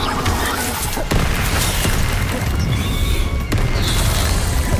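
Spell blasts and booming explosions from the Hogwarts Legacy video game, including a Confringo fire spell, crackle over a dense, loud wall of combat noise with two sharp bursts standing out.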